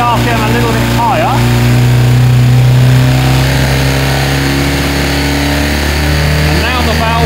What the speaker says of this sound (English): Let's take the RPM a little bit higher.